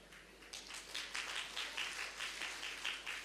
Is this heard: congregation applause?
yes